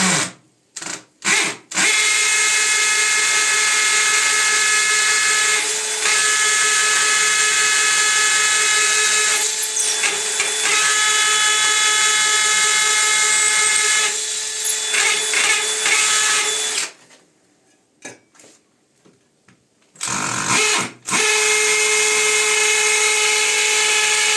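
A power drill bores holes into a wall for dowels with a loud, close, steady whine, running in long sustained stretches broken by short stops and a few brief restarts.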